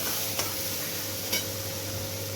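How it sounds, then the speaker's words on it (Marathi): Roasted semolina is stirred and fried in oil in a pan, giving a quiet, steady sizzle with two brief scraping clicks of a spoon. "याला छान असं तेलामध्ये परतून घ्यायचं"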